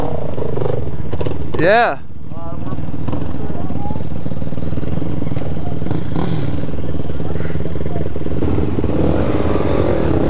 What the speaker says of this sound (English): We have supermotos and dirt bikes everywhere.